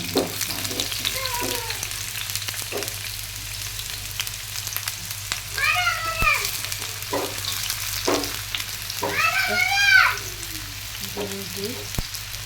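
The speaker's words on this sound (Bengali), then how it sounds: "এখন তেলটা দিছি, পেঁয়াজটা দিয়ে দিয়েছি।" Onion frying in oil in a pan, a steady hiss underneath while voices talk in the background.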